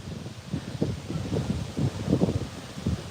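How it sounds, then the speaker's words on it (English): Gusty wind buffets an outdoor walk near a football ground, a steady broadband rush with low rumbling surges that rise and fall across the clip, close to the microphone and without talk. "Oh, so windy."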